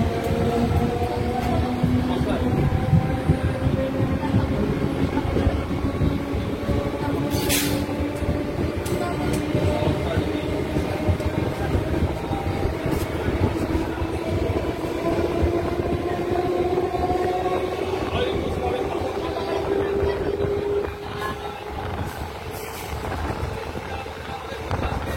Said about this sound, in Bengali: আমাদের এখান দিয়ে যাচ্ছে ট্রেন